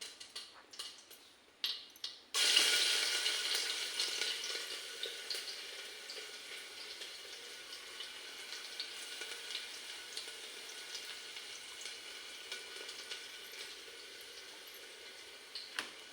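Garlic dropped into hot oil in a pan for eggplant bharit, with cumin already in: a few clicks, then a sudden loud sizzle that settles into a steady, close frying hiss and slowly eases off.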